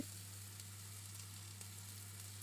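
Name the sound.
chopped onion stirred and frying in oil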